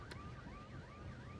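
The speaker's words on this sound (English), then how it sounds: "Literally sets off the car alarms." Car alarms going off in SimCity 3000, a wailing tone sweeping up and down in repeated cycles, faint and steady with no talking.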